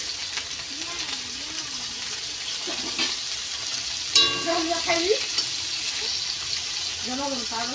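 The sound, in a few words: tempering spices sizzling in oil on gas stove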